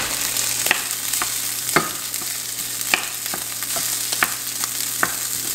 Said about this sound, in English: Now I'm gonna go ahead and add the brown rice.